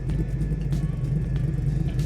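A 1967 Camaro resto mod with its engine running, giving a steady low, loud idle rumble throughout with no talk.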